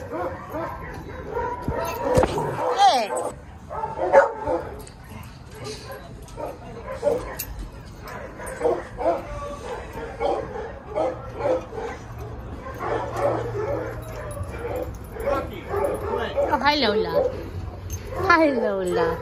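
A dog barks in short, repeated yips and whimpers close by, the bursts scattered throughout and mixed with people talking.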